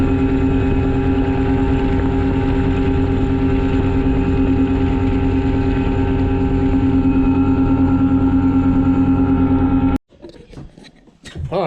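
A fishing boat's outboard motor drones loud and steady as it runs across a lake at sunset, then cuts off abruptly near the end, leaving brief rustling sounds.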